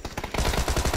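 Gunfire in the battle royale game PUBG comes as a rapid burst of repeated shots, close and loud, with no voices heard.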